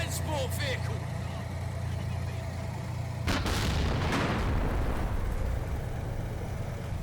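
A burst of gunfire strikes a transport vehicle during battle in the Combat Mission: Cold War game. Sharp cracks and a heavy boom ring out over a constant low engine rumble, and a voice speaks.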